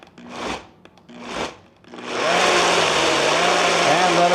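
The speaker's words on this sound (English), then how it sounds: "put it on the blender base here. And I'm gonna pulse it a little bit." A blender pulses a chipotle and ancho pepper sauce for el pastor, first in two short bursts, then running steadily with a loud, continuous whir close by.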